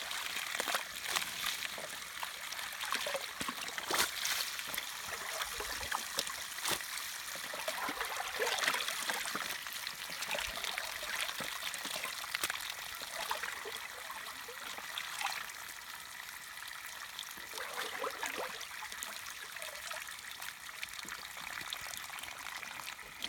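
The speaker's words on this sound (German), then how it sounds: "Dann läuft das Wasser ab." Rinse water from freshly washed sheep's wool drains through a sieve, a continuous trickling and splashing stream with scattered sloshes and drips, fairly quiet and close.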